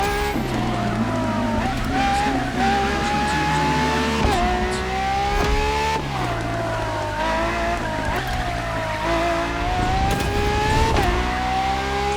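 A Ferrari FXX K, a track-focused LaFerrari derivative, screams through high revs in The Crew Motorfest video game, climbing through repeated upshifts with brief tire squeal, loud and close throughout.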